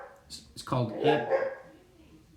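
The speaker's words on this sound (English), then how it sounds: "I apologize if you can hear my dog barking." A dog barks a few times in the background, fairly close but partly covered by someone speaking over it.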